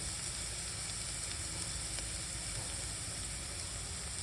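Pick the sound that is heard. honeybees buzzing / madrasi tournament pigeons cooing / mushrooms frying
mushrooms frying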